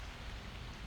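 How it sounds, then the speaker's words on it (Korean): Steady rain falling outdoors on a walk through a leafy, wooded area, a dense even hiss with no breaks or voices. "지금 빗소리 들리시죠?"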